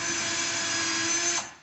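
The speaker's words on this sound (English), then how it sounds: "we're going to use a drill to release the bolts" A power drill spinning to loosen the bolts on a car wheel during a swap from summer to winter tires, a steady loud close whine that holds and then winds down at the end.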